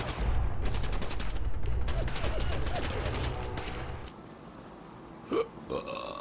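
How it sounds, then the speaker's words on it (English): Gunfire strikes the player in Fallout 4's Nuka World, with rapid bursts of shots for about four seconds before it thins out to a few scattered sharp sounds. "I'm getting shot immediately"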